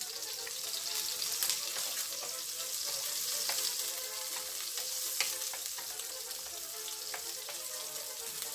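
Garlic and onion fry in a pan for Bicol Express, a continuous soft sizzle with scattered crackles and pops, close but fairly quiet, with no talking.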